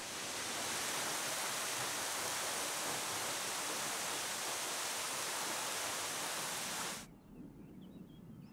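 Waterfall plunging more than 40 metres over a basalt cliff in Cantal, a loud, steady roaring rush of falling water that cuts off abruptly near the end, leaving faint ambience.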